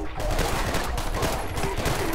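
Burst fire from a gun in a Half-Life 2 mod, rendered as a dense, continuous clatter of rapid gunfire that stays loud and close across the whole stretch.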